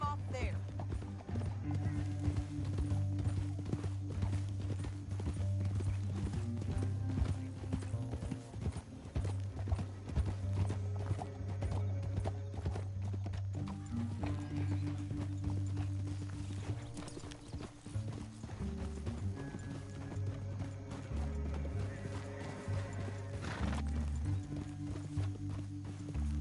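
Horse hooves clatter steadily in Red Dead Redemption 2 on PS5, a rhythmic clip-clop that runs the whole stretch over a low droning game score, with occasional whinnies and voices mixed in.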